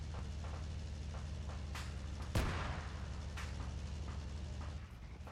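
Gunfire in a WW2 video game set during the Poland campaign: steady rattling bursts under a dense battle din, with one loud sharp crack near the middle standing out from the continuous roar.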